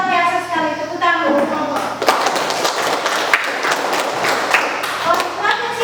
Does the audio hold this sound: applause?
yes